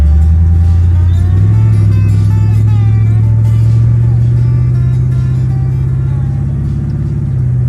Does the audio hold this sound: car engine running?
yes